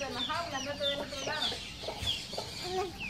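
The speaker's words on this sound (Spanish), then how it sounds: "Ah, esos pollitos." Small chicks peep continuously with high, thin chirps, close by, amid a soft background murmur.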